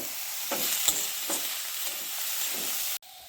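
Cumin powder, black pepper powder and chopped green chilli are stirred in a pan for cauliflower paratha filling, a soft continuous sizzle broken by a few spoon scrapes before the sound cuts off abruptly near the end.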